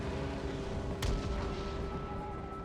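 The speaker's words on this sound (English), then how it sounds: "Honestly, I think we could fire on them." Artillery in the strategy game Total War: Empire fires a single heavy boom about a second in, sharp and close, over a steady low battlefield rumble and hum.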